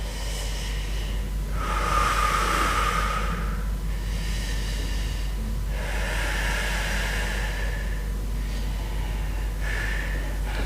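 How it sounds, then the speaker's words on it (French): Slow, deep breaths during a Pilates stretching exercise, several long audible inhales and exhales close to the microphone over a steady low background hum. "Reprenez une respiration ici."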